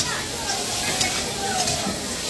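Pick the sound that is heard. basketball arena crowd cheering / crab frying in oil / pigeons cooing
crab frying in oil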